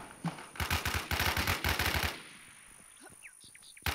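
Automatic gunfire in the video game Infestation: a dense, loud burst of rapid shots lasting over a second, then fading to a quieter tail of scattered game sounds.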